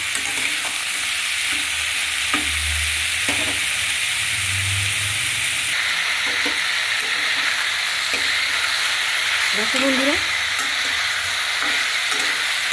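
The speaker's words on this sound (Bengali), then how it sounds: "কেটে রাখা এবং ধুয়ে রাখা লাউয়ের টুকরো আলুর টুকরো দিয়ে ভালো করে একটু ভেজে নিচ্ছি" Bottle gourd and potato pieces fry in a pan with a steady, loud sizzle that runs throughout, with occasional stirring clinks and a brief voice speaking near the end.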